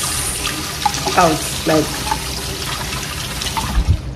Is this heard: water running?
yes